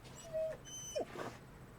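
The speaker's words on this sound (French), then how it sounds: "Oui, on va donner à manger au chien." A dog gives a couple of short, high whimpers at feeding time with dry kibble, faint and close, against a quiet room background.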